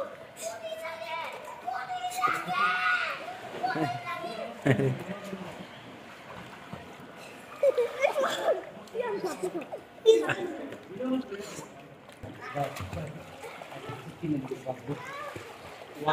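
Children splash while swimming in a pool, with intermittent watery slaps and bursts mixed under near, continuous adult and child chatter throughout.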